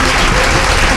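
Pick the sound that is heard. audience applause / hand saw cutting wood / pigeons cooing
audience applause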